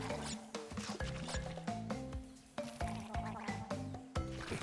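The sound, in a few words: creatures jumping out of water gargling, Crash Bandicoot video game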